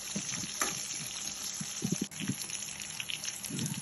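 Chopped onions and chillies fry in hot oil while being stirred, producing a soft, close sizzle with scattered scraping and clinking bursts from the stirring.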